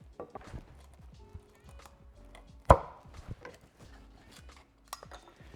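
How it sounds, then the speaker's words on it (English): A Mentsukitou hatchet splits timber down the grain with sparse, dry knocks and one sharp, loud crack partway through, surrounded by quieter tapping and handling sounds outdoors. "This is a more brutal way of using it to split out timber down the grain"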